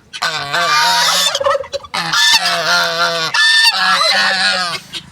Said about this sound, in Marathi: किती मोठी मोठा पक्षी आहे बघा यो